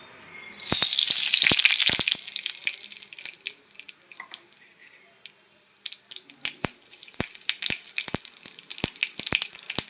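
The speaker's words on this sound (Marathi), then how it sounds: "याचा आवाज पण किती सुरेख वाटतो ना तडक्याचा." Tadka tempering for lemon rice hits hot oil with a loud hissing burst at first, then settles into scattered sharp pops and crackles that continue close by.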